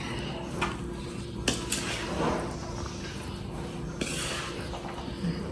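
A utensil stirring crab with a duck egg in a bowl, producing scattered clinks and knocks against the dish over a steady background hiss, close by with no clear talk.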